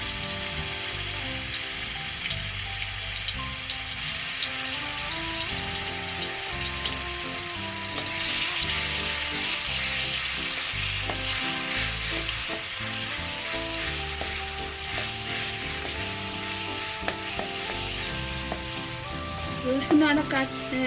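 Garlic and ginger paste frying in a pan: a continuous crackling sizzle with occasional spatula stirs, growing slightly more intense partway through and ending with a few clinks, close by and without speech.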